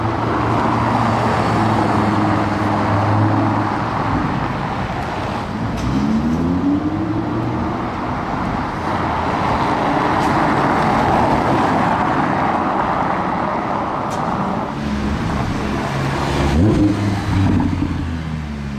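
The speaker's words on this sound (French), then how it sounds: "J'ai entendu de loin le V10." A high-revving V10 supercar engine roars and climbs through the gears amid steady Paris street traffic noise, loud and sustained.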